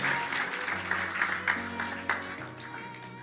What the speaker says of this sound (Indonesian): Sekali lagi kasih tepuk tangan buat Tuhan Yesus